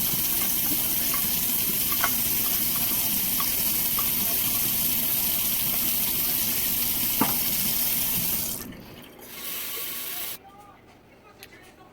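Ground beef browns in a pot for taco filling, giving a steady close sizzle and crackle with occasional stirring clinks before the frying noise drops away near the end.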